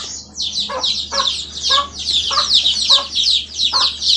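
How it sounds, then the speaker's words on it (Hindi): Chickens on a farm cluck repeatedly while pecking at fresh feed. The calls are close and loud and come in a run of short, bursting clucks over a faint low hum. "अभी मुर्गी को हम चारा दे दिए हैं"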